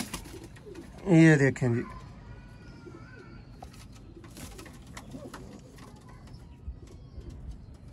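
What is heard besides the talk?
Sialkoti pigeons cooing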